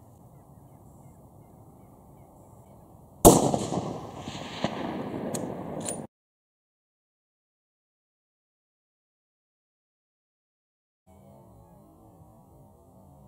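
A single sharp .270 WSM rifle shot cracks out during a whitetail deer hunt, loud and close, with a short rumbling tail after it, set between stretches of quiet outdoor background.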